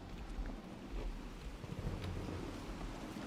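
Wind gusts roar steadily outdoors near a large tree in the horror video game Outlast, a dense low rumble that swells and eases over a few seconds, with no voices.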